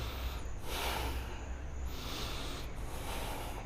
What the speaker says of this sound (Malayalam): നന്നായിട്ട് ശ്വാസം എടുത്തു വിടുക.